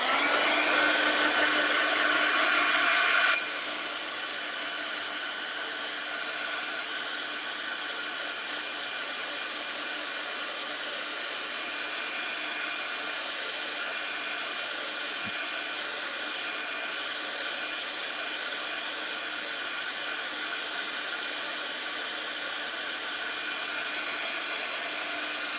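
A hair dryer blows to dry wet ink on a card background for crafting, a loud steady whir for the first three seconds that then cuts off, leaving only faint room hiss.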